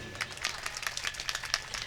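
Sparse, thin audience clapping at a poetry mushaira, a scattered patter of a few hands for under two seconds, soft and uneven with faint crowd murmur behind.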